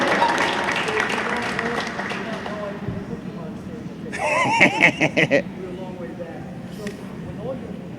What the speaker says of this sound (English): Little round of applause for Bill